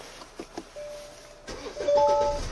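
Start-up chime of a Hyundai diesel large sedan with about 150,000 km: a soft tonal ding sounds twice inside the quiet cabin, the second longer, over faint interior noise.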